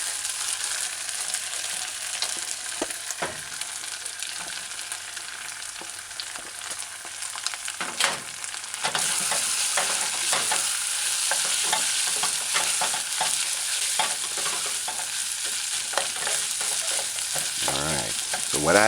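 Pork pepper stir-fry sizzles hard in a pot with chili and oil as chopped carrot and onion go in; the frying grows louder and busier midway, with stirring scrapes and clatters over a continuous hiss.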